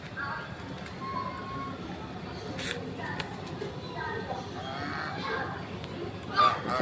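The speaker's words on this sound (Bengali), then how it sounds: "আর এই হচ্ছে রাজহাঁস, এই দেখো রাজহাঁসগুলো" Geese honk in short bursts against a steady outdoor background, with occasional louder calls near the end.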